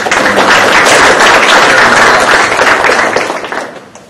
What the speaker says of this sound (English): so a round of applause to yourselves as well for coming here